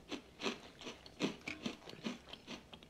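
Someone chews a chewy Oreo cookie with marshmallow, with soft repeated bites and squishy mastication sounds in a steady rhythm, close up and quiet.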